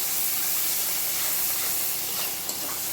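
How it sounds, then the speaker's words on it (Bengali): Dried fish (shutki) frying in hot oil gives a steady, dense hiss and sizzle that holds evenly throughout, close and fairly loud, with no voices. "তারপর শুটকিটা একটু তেলে ভাজবো"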